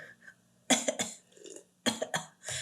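Two sharp coughing fits, each a cluster of rough bursts, close and fairly loud with quiet between them.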